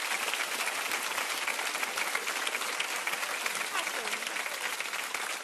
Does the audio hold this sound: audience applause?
yes